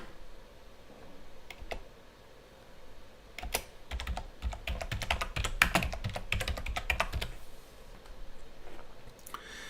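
Typing on a computer keyboard while entering equipment marking names in electrical engineering software; irregular bursts of close key clicks, sparse at first, then a dense flurry in the middle that tapers off.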